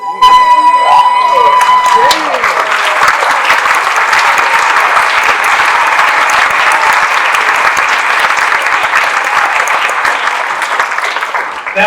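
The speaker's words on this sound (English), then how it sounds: "let's give her another round of applause" Loud, sustained applause from a talent show audience, filling the whole stretch with dense clapping and some cheering after a brief fading musical tail at the start.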